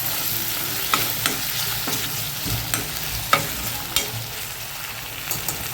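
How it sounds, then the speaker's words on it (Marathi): Finely chopped tomato sautéing in ginger-garlic paste for dal khichdi: a steady, close oily sizzle, with a spatula scraping and tapping the pan every half-second or so. No voices. "बारीक चिरून घेतलेला टोमॅटो तोही छान असा परतून घ्यायचा आहे"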